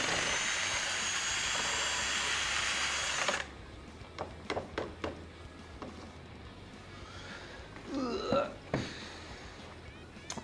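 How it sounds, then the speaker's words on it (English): A small drill with a mixer attachment whirs loudly and steadily while stirring glaze for Cone 6 test tiles, then cuts off abruptly, leaving quiet knocks and scraping sounds with brief speech. "I have a little drill with a mixer."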